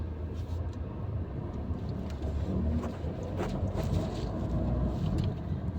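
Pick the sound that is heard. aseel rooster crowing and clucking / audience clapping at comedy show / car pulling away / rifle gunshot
car pulling away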